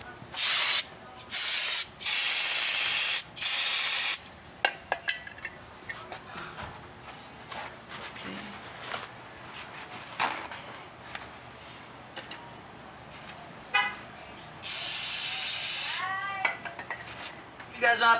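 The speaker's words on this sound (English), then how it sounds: "I use brake cleaner." Brake cleaner sprayed onto the brake hardware of a 2012 Honda Civic in loud, close bursts of hiss, several of them back to back and then one long burst, with clinks of metal parts and some talking in between.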